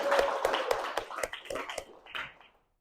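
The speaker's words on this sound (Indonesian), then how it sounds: "Tepuk tangan." Classroom applause from a group of pupils: a quick run of sharp, even claps in a steady rhythm, about a dozen hits over a couple of seconds, close and fairly loud, then stopping abruptly.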